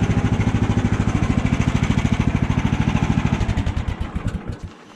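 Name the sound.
portable sawmill engine running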